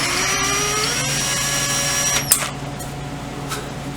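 A power drill bores a starter hole into the inlet side of a Triumph 500 Otter part, a steady whining hum with shifting harmonics that ends abruptly, followed by a short clatter.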